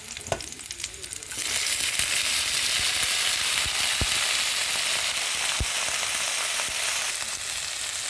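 Vegetables hit a hot pan while ginataang isda, a Filipino fish dish in coconut milk, is cooking; a low crackle quickly swells into a loud, steady sizzle with occasional sharp pops as the frying continues.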